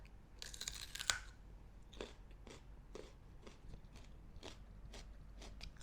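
Crunchy bites and chewing on a pre-workout snack, with a sharp crisp crunch near the start followed by a steady series of softer, close munching sounds.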